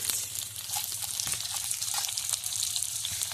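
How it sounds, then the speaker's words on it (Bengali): Chopped onions sizzle steadily in a hot pan with vegetables and mustard seeds for vegetable semai, a continuous close crackling hiss with faint stirring clicks. "পেঁয়াজটা দিলাম এবার একটু নাড়াচাড়া করে দিচ্ছি নাড়াচাড়া করে ভেজে নিচ্ছি"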